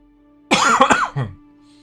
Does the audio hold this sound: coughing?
yes